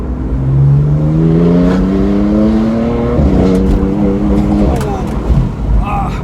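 A BMW M4 GTS accelerates hard on a bumpy road, its loud engine note climbing steadily in pitch from inside the car, easing briefly, then rising again through the gears.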